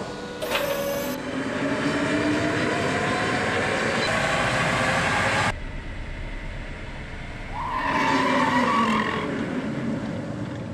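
A Tata Nexon EV runs on a roll and brake performance test rig in a factory, steady mechanical rolling hum and whir with a brief high whine, cutting off midway and then swelling again.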